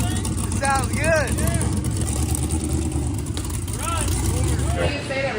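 Big block Chevrolet engine in a sand car runs steadily with a loud low rumble throughout, while people talk over it with upbeat voices.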